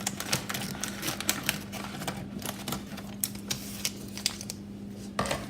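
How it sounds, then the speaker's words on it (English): Close, crisp snips and rustling crackles from a bag of chocolate chips being cut open and handled, a quick irregular series of sharp ticks over a faint steady background hum. "Cut open my bag of chocolate chips."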